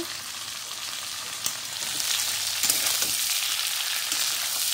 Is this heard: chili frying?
yes